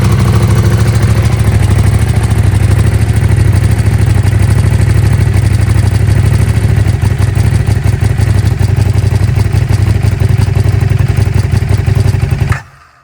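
A KTM RC8 R sportbike under repair, its engine running loud and close at a steady, throbbing idle for about twelve seconds before abruptly cutting out into silence.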